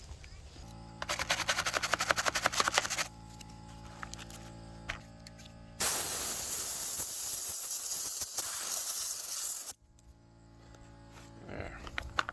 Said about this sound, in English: use the compressor to blow it out and make sure it's clean